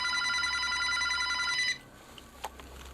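A telephone bell rings loudly in a played-back recording, a steady repeating electronic trill that cuts off abruptly partway through, leaving faint background noise with a couple of small clicks.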